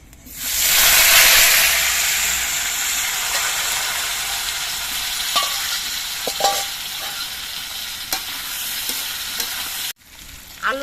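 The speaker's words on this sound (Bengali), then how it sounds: "এর মধ্যে আমি সেদ্ধ করা আলুগুলো দিয়ে দিচ্ছি" Boiled potatoes hit hot oil with whole cumin seeds and fry with a loud, steady sizzle that surges at first and then settles, broken by occasional scraping and stirring clicks.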